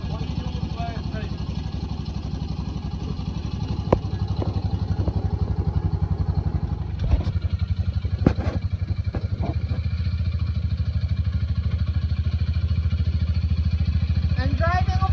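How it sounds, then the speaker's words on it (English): A four-wheeler ATV engine drones steadily while being driven, with a loud, continuous mid-pitched rumble and occasional rattles and clatter throughout. "I'm driving a four-wheeler."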